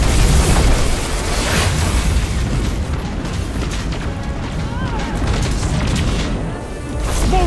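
An in-game missile explodes during a Destiny 2 battle against the Red Legion, a dense, roaring boom that fills the opening second and then settles into a sustained rumble of combat noise with scattered bursts, while voices speak over it.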